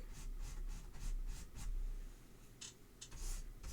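A brush drags acrylic paint across a surface in soft, repeated scratchy strokes, close up and quiet, over a low steady background hum.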